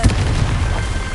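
A Confringo spell explodes in a Harry Potter video game, a loud, sustained booming blast filling the whole moment with rumbling low-end force and no gaps.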